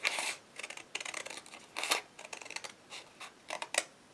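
Scissors snipping through folded card for a paper easel, a series of short crisp close cuts in uneven bursts, quiet and alone.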